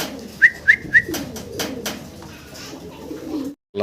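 A pair of Iranian Barhuma pigeons cooing close by: three short, evenly spaced coos, followed by soft rustling and faint background noise.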